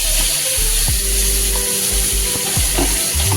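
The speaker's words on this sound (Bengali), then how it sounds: "এবার এর মধ্যে আমি মশলার পেস্টটা দিই।" Spice paste hits hot oil already seasoned with cloves, asafoetida, dried red chilli and whole cumin, sizzling loudly and continuously while a spoon scrapes and stirs the pan in a few rhythmic strokes.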